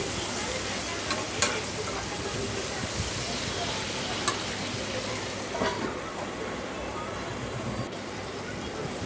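A salted tempering (popu) for fish curry cooks in a pan with a steady moderate sizzle and a few sharp crackles, while low, indistinct talk murmurs in the background.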